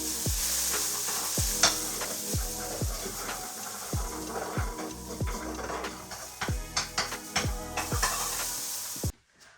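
Bacon and eggs sizzle steadily in a hot pan while a utensil scrapes and stirs in repeated strokes, ending with a final clatter.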